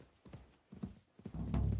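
Horse hooves clop in short bursts followed by a loud, close neigh at the end, set in the medieval game Kingdom Come: Deliverance 2 at Nebakov Fortress.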